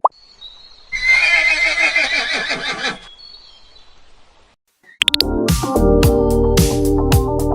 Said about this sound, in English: A horse is the right answer.